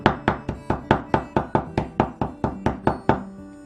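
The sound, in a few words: mincing crushed ginger with a cleaver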